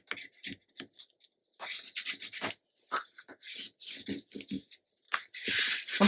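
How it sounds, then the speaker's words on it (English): Hands press and rub glued paper on a scrapbook mini album cover, producing close, dry rubbing strokes in short irregular bursts separated by brief pauses. "I'm pressing hard because I just want to spread the glue out"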